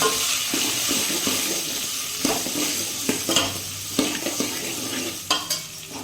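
Oil sizzles steadily in a pan as a spiced tempering fries for village-style rice khichdi, while a spoon stirs, scraping and clinking against the metal in short irregular bursts.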